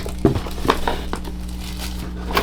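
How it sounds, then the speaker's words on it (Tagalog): Plastic packaging of a Dark Alien K102 budget full-size keyboard crinkles and crunches as it is opened, with a few sharp rustles early on and softer handling noise continuing throughout, close by. "So buksan na nga natin tong keyboard."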